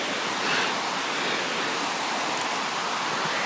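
Water rushing down a stream in the Cure valley on a hiking trail, a steady broadband roar that stays close and constant throughout with no voices.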